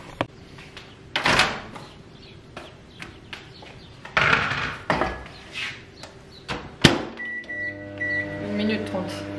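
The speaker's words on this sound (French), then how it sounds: "Retirer puis déposer-le directement dans le four à micro-ondes." Microwave oven in a home kitchen, set to 750 watts for 1 minute 30, starting up with clicks and door thuds before a steady electric hum and whir settle in at close range.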